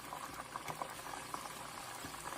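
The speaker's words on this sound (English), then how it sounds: "He's frying chicken on his desk." Chicken frying in hot oil on a desk setup, a steady bubbling sizzle with faint crackles and pops running continuously and fairly quietly throughout.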